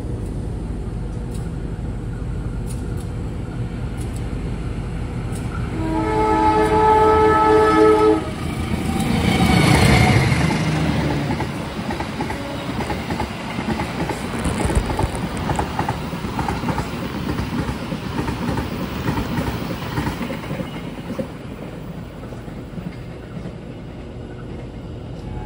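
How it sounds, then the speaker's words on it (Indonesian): The Banyubiru Express train from Semarang to Solo Balapan passes close by on the crossing track, its horn blaring briefly before a long rumble and clatter of wagons rolling past, with no voices. "kita tunggu bersilang sama kereta api Banyubiru Express dari Semarang menuju ke Solo Balapan"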